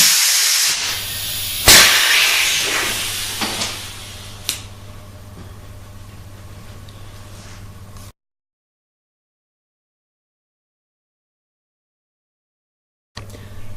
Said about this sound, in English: We'll then trigger the tool, keep the trigger held, and we'll disconnect the air when the air piston is in the bottom position.